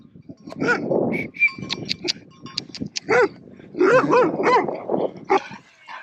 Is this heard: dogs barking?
yes